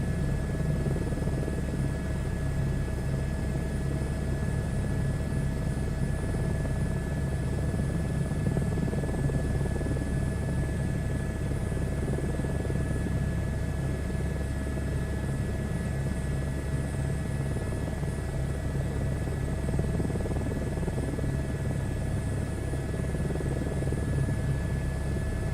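Helicopter in a flight simulator game, a steady, continuous rotor and turbine drone with a constant whine, holding level and unchanging throughout, no talking.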